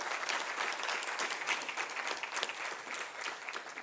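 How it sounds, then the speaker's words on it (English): Conference attendees at an African construction law conference give a round of applause, a fairly quiet but steady patter of many hands clapping with distinct individual claps, heard at a moderate distance and alone. "A round of applause for each and every single one of"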